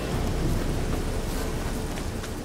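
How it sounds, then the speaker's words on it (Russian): Thunderstorm in The Witcher 3 game, a loud dense wash of heavy rain and deep rolling thunder filling the whole moment, with no speech over it. "Гроза, мать ее."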